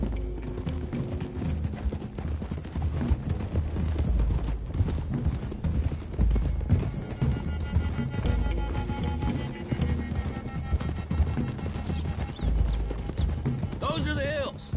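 Horses gallop in the Red Dead Redemption 2 video game, a dense, continuous clatter of hooves under a busy mix of game audio and low rumble, with a brief tonal effect near the end.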